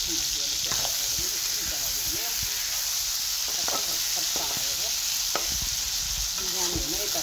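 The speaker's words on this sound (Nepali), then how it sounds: "मजाले भुटेर त्यसो गरेर प्याज हालिदिँदैछु" Onions frying with meat in a pot for biryani, stirred as they cook: a constant loud sizzle with repeated scraping strokes of a spoon, close by, while a person talks over it.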